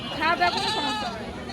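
Goat bleating at a rural livestock market, a wavering nasal call in the first half second or so, close and fairly loud amid crowd chatter and people talking.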